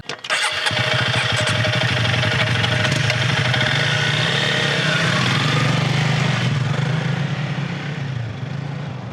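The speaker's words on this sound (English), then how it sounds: "that's the sound of us pulling away from Pete's mic" Motorcycle engines start and rev loudly, holding a steady roar before gradually fading as the bikes pull away.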